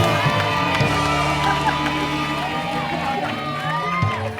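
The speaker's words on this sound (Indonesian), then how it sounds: "Tepuk tangan dong buat Bu Marmut." A studio audience at an Indonesian comedy show bursts into loud cheering, whoops and shouts that blend into a continuous crowd roar, with voices rising and falling together close to the microphone.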